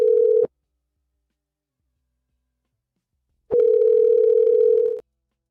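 Steady telephone dial tone heard alone, a short burst at the start and then, after silence, a longer continuous tone of about a second and a half, clear and close.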